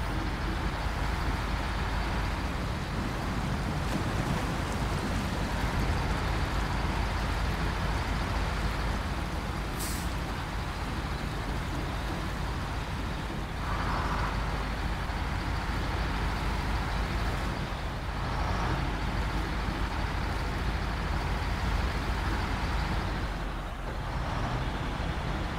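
A Western Star truck drives in SnowRunner, a steady heavy diesel drone holding loud and close throughout, with a few brief hiss-like bursts and thumps along the way.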